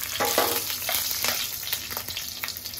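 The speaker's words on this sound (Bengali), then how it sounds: "তেল গরম করে মরিচটা দেওয়া হয়ে গেল" Green chilies crackle and sizzle in hot oil, a close, busy frying hiss with small popping bursts and a faint stirring scrape, no voices.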